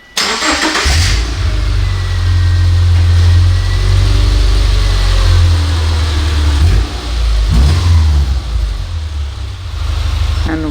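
A Subaru Impreza engine cranks and catches, then settles into a steady, loud idle close by with a slight dip in rhythm partway through.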